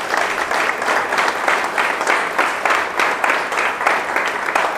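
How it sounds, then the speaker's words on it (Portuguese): A church congregation at a Brazilian service claps together, a loud pulsing wash of applause with rhythmic surges that continues throughout. "Você pode aplaudir a Jesus Cristo por isso?"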